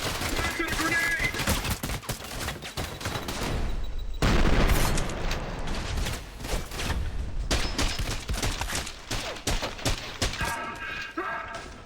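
Dense, continuous gunfire in the video game Trepang2, overlapping shots in rapid volleys with a heavy grenade blast partway through, loud and chaotic throughout.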